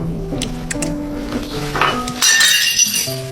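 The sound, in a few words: ceramic bowl breaking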